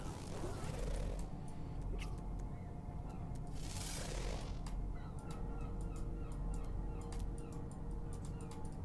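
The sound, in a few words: bird calling in the video game No Man's Sky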